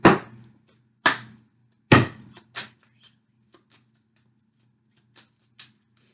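Tarot cards are shuffled and tapped in a few sharp bursts, then fainter clicks and taps trail off into quiet.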